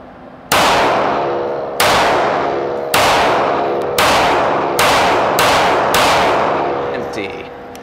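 Sig P232 SL pistol fired at an outdoor range: six loud, sharp shots spaced roughly a second apart, each with a long ringing decay.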